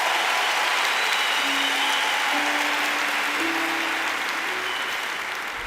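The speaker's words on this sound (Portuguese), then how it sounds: "Um forte aplauso para o meu pai" A church congregation breaks into loud, sustained applause, a thick continuous wash of clapping that swells and holds without a break, with a faint tonal murmur beneath.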